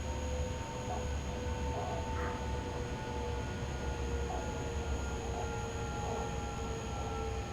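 A Vectron electric locomotive under way in the train simulator SimRail: a steady, rumbling rolling drone with faint constant electric whines layered on top, unbroken and even throughout.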